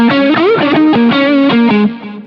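Distorted electric guitar plays a riff: a loud, close run of sustained notes with bends and slides, heard alone, easing off at the end.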